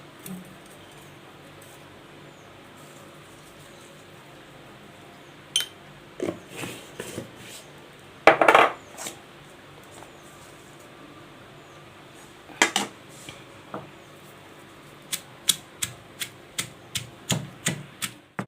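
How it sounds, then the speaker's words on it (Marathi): Green chilies and raw mango are pounded with salt for a spicy thecha: sparse, irregular dull knocks at first, then a quicker run of sharp, evenly spaced strikes near the end, close and fairly loud. "थोडं थोडं हळूहळू कुटून घेते याच्यातसुद्धा सुद्धा आधीच चवीनुसार मीठ टाकून घेते"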